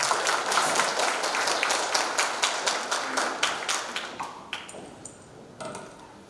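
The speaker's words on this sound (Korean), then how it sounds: "건축사님 나오실 때 큰 박수로 환영해 주시기 바랍니다" Audience at a Korean business briefing claps to welcome an architect to the stage, starting as a burst of distinct claps that thins into scattered, fading taps before stopping near the end.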